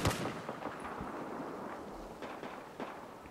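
Repeated gunfire from a weapon in the video game Battlefield 4, a run of sharp cracks and bursts in quick succession over a busy, noisy battlefield backdrop, loud and close throughout.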